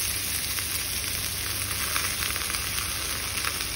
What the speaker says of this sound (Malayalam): ഇനി ഞാനതിലേക്ക് ഈ മുരിങ്ങയില ഇടുന്നുണ്ട്